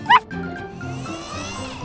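A single short, high yip from a cartoon puppy at the start, followed by light background music.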